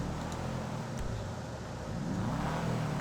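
A car in GTA 5 revs its engine after a turbo upgrade, a close, rising mechanical whir that swells toward the end, heard without speech.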